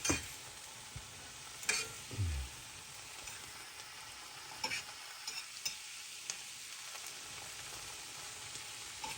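Puffball mushroom spaghetti sauce being stirred and folded in a pan, a soft scraping and gentle sizzle running quietly throughout with a few louder clinks of the utensil near the start, no talking.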